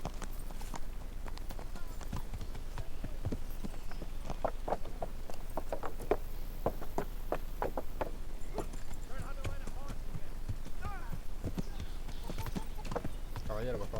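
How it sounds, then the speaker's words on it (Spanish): Horse hooves clip-clop in a steady rhythm as a rider travels in a video game, with talking over the top throughout. "Voy a montar en mi caballo, ¿no?"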